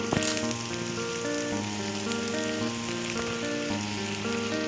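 Curry leaves hit hot brinjal masala gravy with a steady, close crackling sizzle that runs on without a break, backed by a low cooking hum and no voices.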